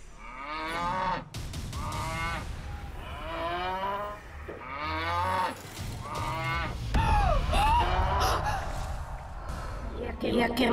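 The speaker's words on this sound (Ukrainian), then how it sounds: "я пішла до корови, чую. А вона реве," A farm cow bellows in distress, loud drawn-out repeated moos rising and falling in several calls, heard alongside a voice talking over them.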